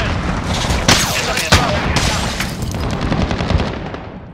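Gunfire crackles in Call of Duty: Modern Warfare multiplayer, sharp bursts and a couple of heavy booming shots over a dense battle din, with a voice calling out over the noise.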